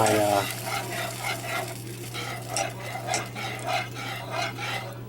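Homemade turkey gravy with small chunks of skin stirred in a pan over low heat, a close rhythmic scraping of a utensil around the pan, repeating about once a second over a faint sizzle.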